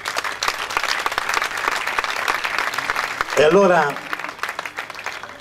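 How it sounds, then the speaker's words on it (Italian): Audience applause at a Marian song festival in Italy, a dense steady clatter of many hands for about three seconds, then a voice cuts in over the tail as the clapping thins. "Un applauso al creato."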